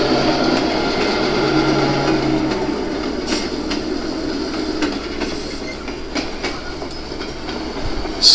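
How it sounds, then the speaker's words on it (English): A Penn Central unit coal train arriving at a yard in a virtual model railroad, a continuous rumbling roll of cars with faint clicking wheel beats and occasional light squeals, steady and fairly loud throughout. "The train arrives at West.Mill, passing WM Tower"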